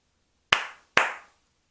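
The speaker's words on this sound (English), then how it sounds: "I am a seal, and I clap my hands." Two sharp hand claps, about half a second apart, ring out alone in a quiet room, each with a short trailing echo.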